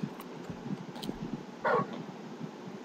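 Torgal, the large dog from Final Fantasy XVI, gives a brief soft whimpering yelp in a quiet scene, one short cry rising above low background ambience with faint earlier yips.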